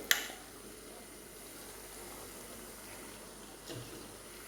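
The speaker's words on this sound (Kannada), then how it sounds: "ಆಮೇಲೆ ಸ್ವಲ್ಪ ನೀರು ಕೂಡ ಹಾಕಿ" Water is poured into a pot of half-cooked Mangalore-style chicken pulimunchi curry: a brief splashy burst at the start, then a low, soft, steady wash of liquid, with no voices.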